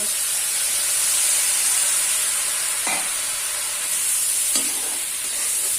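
Garlic and a splash of water hit hot oil in a pan while cooking chicken curry, giving a steady, loud sizzling hiss that runs throughout, with a couple of brief stirring scrapes.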